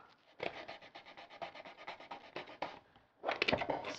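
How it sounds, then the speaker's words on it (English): Sandpaper scuffing the back end of a cardboard high-power rocket motor tube, a rapid run of short rhythmic rasping strokes, a brief pause, then a final louder burst, close and without talk. "This back end, we're going to want to scuff it up with some sandpaper."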